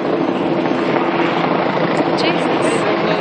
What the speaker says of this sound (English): I think that might be a rescue helicopter.